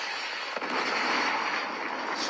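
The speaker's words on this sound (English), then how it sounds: "Predator missile inbound." A predator missile explodes in a shooter video game, producing a dense crackling, rumbling blast that holds at moderate loudness for a couple of seconds.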